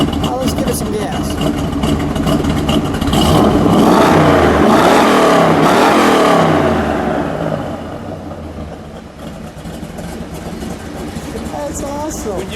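A 1967 Plymouth Belvedere GTX with its 426 Hemi engine revs up into a loud, deep roar that swells over a few seconds, then eases back to a steady, rumbling idle.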